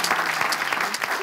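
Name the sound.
audience applause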